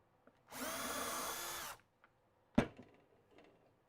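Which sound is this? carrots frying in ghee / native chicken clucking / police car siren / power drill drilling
power drill drilling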